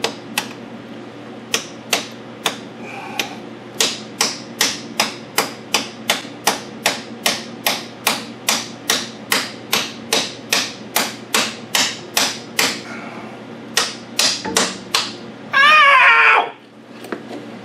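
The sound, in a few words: brass hammer striking socket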